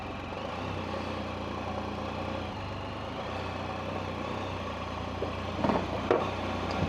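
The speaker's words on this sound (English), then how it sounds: "this is going to be the first person's view of loading the Can Am Spyder into the" A Can-Am Spyder engine idles steadily while being loaded into a 7-foot-wide enclosed trailer, giving a constant low rumble with a few faint knocks near the end.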